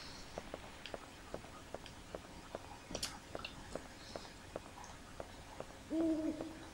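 Owls hoot faintly in the distance in the video game Dino Crisis, a soft two-part hoot near the end over a quiet bed of regular ticking footsteps.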